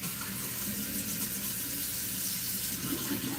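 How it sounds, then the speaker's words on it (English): Warm water runs steadily from a tap into a sink, a constant close hiss and splash with no break and no talk. "Warm water will make it go through way better."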